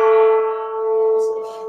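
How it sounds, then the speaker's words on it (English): A single gong stroke as a sound effect: one metallic strike that rings out with a sustained, slowly fading tone, alone and loud. "we'll throw him a gong here"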